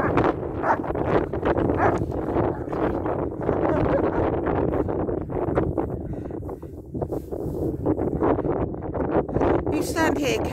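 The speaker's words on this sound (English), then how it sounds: "A bit cold and windy today." Steady wind buffets the microphone throughout, a loud low rumble with gusty swells and no clear speech.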